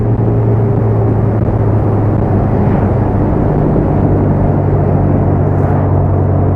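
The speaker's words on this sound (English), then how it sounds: "We built something that's a piece of art that goes 70 miles an hour and makes a beautiful noise." Upgraded Austin Healey Bugeye Sprite cruising at 70 mph around 3,600 RPM, a loud, constant engine drone and road rumble with a steady low hum and no breaks.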